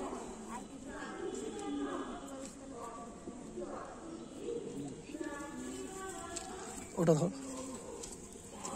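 Pigeons coo softly at close range among a loft of clipped-wing birds, their murmuring calls running under a man's ongoing speech, with a brief louder rustle or flutter near the end.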